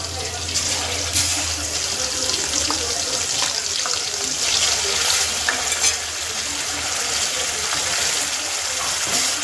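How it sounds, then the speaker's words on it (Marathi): Spice masala for a spicy mutton curry crackling in plenty of hot oil, a steady bright sizzle with scattered pops and spatters throughout, fairly close and loud, a low background hum underneath. "तेल तापले. आता टाकले मसाला."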